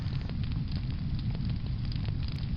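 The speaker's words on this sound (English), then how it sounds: "You throw some more wood on the fire and go to bed." A wood fire in a home hearth crackles steadily and close, a dense low rumble with scattered small pops throughout and no voices.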